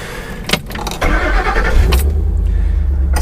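A restored and modified 1972 Ford Bronco, finished in ICON style, cranks and catches, then settles into a steady, close engine rumble as it pulls away, with a brief metallic jingle near the start.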